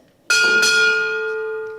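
Two quick, bright strikes of a ship's bell at a US Navy retirement ceremony, close and loud, followed by a sustained ringing tone that slowly fades.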